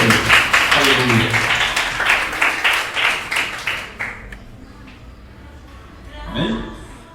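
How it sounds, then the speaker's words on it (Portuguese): Clapping from a church congregation rings out in a steady rhythmic burst, loud and close, gradually thinning out and stopping midway, followed by quiet room sound and a brief spoken voice near the end. "E as palmas são para Ele."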